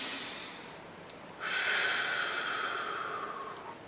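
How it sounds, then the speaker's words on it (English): One long, deep breath drawn in close to the microphone as a strong hissing inhale that swells and then slowly fades, preceded by a brief sniff. "you receive a deep breath"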